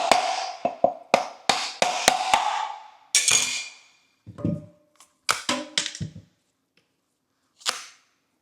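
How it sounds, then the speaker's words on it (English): A coconut is broken with a fast run of sharp cracking blows, then its flesh is dug out in scattered knocks and scraping taps with pauses between, close and loud, with no talking. "Breaking the coconut, then I'm going to dig it out."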